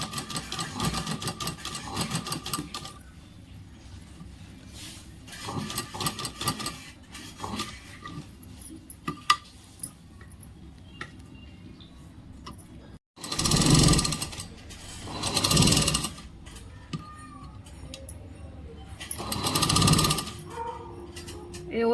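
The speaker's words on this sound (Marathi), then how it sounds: "शिलाई मारून घेते" A sewing machine stitches around the neckline of a size 34 blouse, giving short bursts of fast rhythmic whirring that start and stop, the loudest runs in the second half, with a few handling knocks between them.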